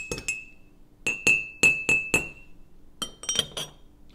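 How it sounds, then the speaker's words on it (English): A spoon clinks against a glass of Irish coffee, ringing in bright, close taps: two quick strikes, a rhythmic run of five, then a cluster of lighter chimes. "I'm going to give it a stir."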